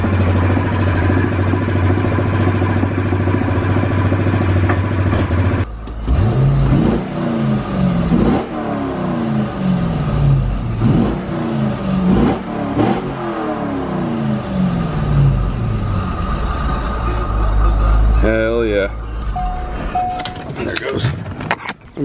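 A Corvette ZR1 engine cranks several times in a garage, then catches and revs in uneven bursts, fairly close, with brief talk before it and a whirring at the end.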